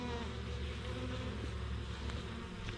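Bees around a beehive on a farm, a dense continuous buzzing swarm close by, steady and loud with no talk.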